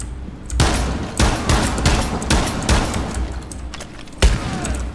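Rapid bursts of gunfire from the video game Rainbow Six Siege, loud and close, with repeated volleys and short gaps between them, and no talk over them.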